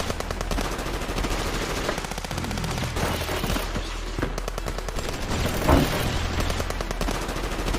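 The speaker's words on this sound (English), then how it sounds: "charges at the crowd of enemies amid a cacophony of gunfire" Rapid, continuous bursts of automatic gunfire from several weapons in a video game battle, loud and dense, with a heavier blast near the end.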